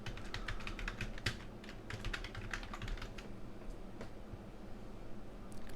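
Username and password typed on a computer keyboard, a quick, uneven patter of close, soft key clicks with brief pauses, heard alone and fairly faint.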